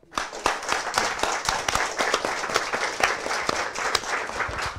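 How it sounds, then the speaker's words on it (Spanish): An audience claps warmly at the close of a talk, with dense, sustained applause and distinct individual hand claps carrying throughout. "Despedimos a Gerardo con un aplauso."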